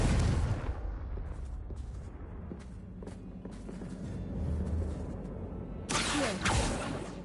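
A Confringo fire spell blast in Hogwarts Legacy on PS5, a loud booming burst at the start, then a low rumbling din with scattered thumps before a second sharp, bright blast near the end.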